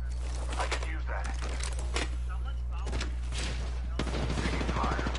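Gunfire in a PS4 shooter game: a cluster of sharp shots and short bursts over a steady low hum, with a player's voice talking over the action.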